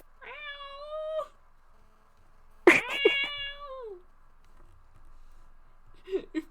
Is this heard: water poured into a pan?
no